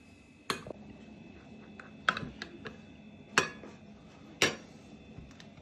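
Several sharp clicks and taps of a fork against a bowl while mixing soy sauce, spaced irregularly, over a quiet background hum.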